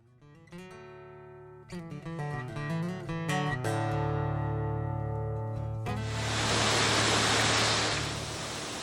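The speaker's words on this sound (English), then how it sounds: "it's really relaxing listening to that water come over the dam there and run down the creek" Water spilling over the dam of a historic mill at a campground and running down the creek: a steady broadband rush swells in over the final few seconds, after a stretch of sustained tonal notes.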